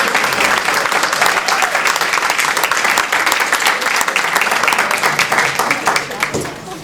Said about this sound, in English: clap and recognize them.